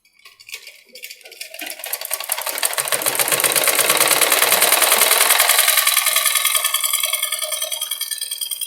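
A sewing machine running basting stitches on a blouse lining, starting with a few slow stitches and then speeding into a steady, fast whir that holds for several seconds before easing slightly.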